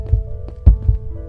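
A heartbeat thumps in a Minecraft horror map, with a few deep, muffled beats arriving in uneven pairs over a faint steady hum.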